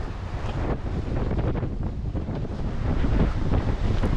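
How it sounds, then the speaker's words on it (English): Heavy wind gusts buffeting on a Santorini cliffside track, a rough, continuous roar of wind against the microphone with surging, uneven bursts, close and loud, with no voices. "The wind gusts were so heavy, at times we feared of falling down the cliff"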